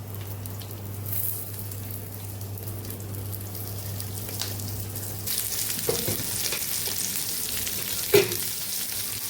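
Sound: stuffed okra frying in oil on iron griddle

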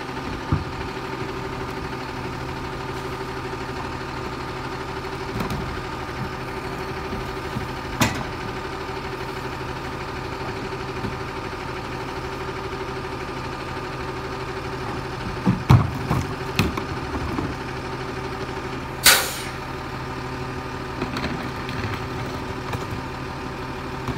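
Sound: garbage truck engine idling

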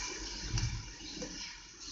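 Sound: cup of water poured into chicken dish

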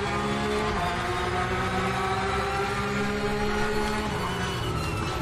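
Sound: Porsche Carrera Cup race car engine, RaceRoom video game

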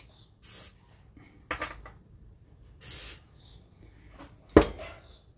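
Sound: spraying Inox lubricant into threads

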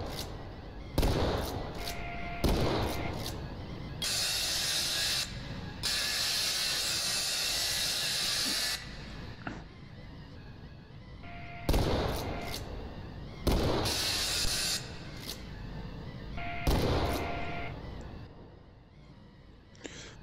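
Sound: shotgun firing in a video game

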